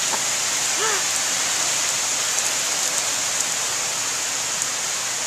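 Steady rain falls outside in June, a dense even hiss of drops on surfaces that holds constant throughout, with a faint brief chirp near the start.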